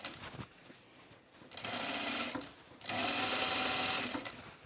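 A sewing machine runs in two steady bursts while stitching fabric for a Mercer top, a close, even motor whir with a short pause between runs and no talk.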